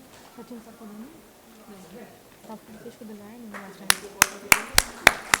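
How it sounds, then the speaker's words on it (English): A host speaks at a healthcare panel event, then a short run of sharp, evenly spaced hand claps breaks out nearby as talk gives way to clapping. "Please put your hands together for her."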